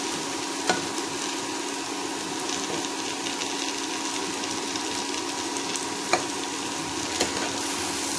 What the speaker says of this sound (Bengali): আমি আরও কিছুক্ষণ আলু ভাজাটাকে রেখে দেব।